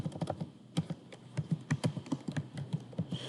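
Fast, close keystrokes on a computer keyboard as a command and password are entered at a Linux terminal, a steady irregular patter of clicks with no voices.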